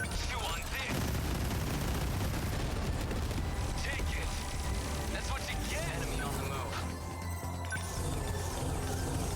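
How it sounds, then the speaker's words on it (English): Dense burst of in-game effects from 13 Sentinels: Aegis Rim as many things spawn at once: a continuous crackling, booming barrage like rapid gunfire, layered and steady across the whole stretch. "the sound of a lot of things being spawned."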